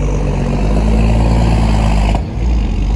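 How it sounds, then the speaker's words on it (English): An extremely noisy truck on a city street in Kensington, North Philadelphia gives off a loud, steady engine drone that fills the street, then suddenly drops away near the end. "not only do we have an extremely noisy truck"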